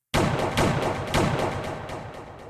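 Gunshots ring out as a sound effect, three loud booming blasts spaced about half a second apart, each with a long rolling echo and softer crackling shots in between.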